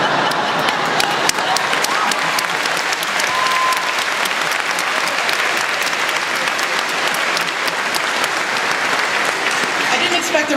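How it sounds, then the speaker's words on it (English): A graduation audience at a Rutgers Law ceremony breaking into sustained applause, a dense, even wash of clapping, with scattered voices and cheers underneath. "I didn't expect a round of applause there."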